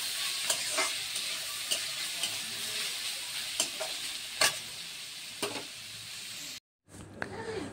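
Onions frying in a pan with a continuous bright sizzle close up, punctuated by periodic sharp spatula taps and scrapes, a short gap, then quieter sizzling.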